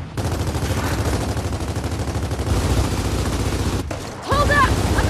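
Rapid automatic gunfire fills a Gears of War 4 co-op firefight, with loud sustained bursts that break briefly and then resume, and a player talks over the shooting.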